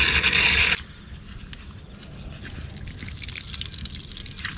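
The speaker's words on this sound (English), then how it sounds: "Just rinse it out." A motorbike air filter rinsed under running water that still holds detergent, starting with a loud burst of gushing water, then a quieter trickle and dribble with light splashing nearby.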